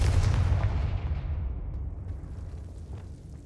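Confringo spell explosion in Hogwarts Legacy, one loud deep blast at the start that rumbles and slowly fades away over a few seconds, with no talking.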